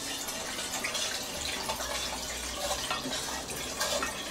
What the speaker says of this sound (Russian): Добавляю еще воды.